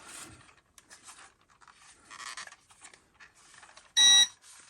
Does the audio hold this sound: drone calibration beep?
yes